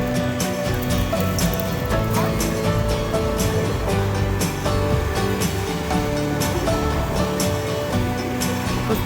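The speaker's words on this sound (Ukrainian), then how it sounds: "сьогодні великі хвилі" Loud, continuous Black Sea surf with big waves washing onto a beach at Zolotyi Bereh, Odesa, breaking and hissing steadily throughout.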